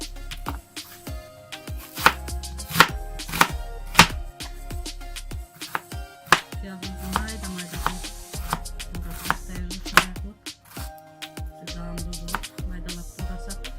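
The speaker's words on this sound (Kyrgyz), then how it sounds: "Пиязыбызды майдалап туурап алабыз." A knife finely chopping onion on a cutting board, a steady run of sharp, close taps with short pauses between bursts, heard alone without talk.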